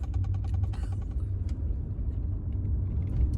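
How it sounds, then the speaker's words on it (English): A car engine rumbles low and steady while the car is driving, with a few faint ticking clicks early on and no talk. "I'm pulling up somewhere and I got to get out the car"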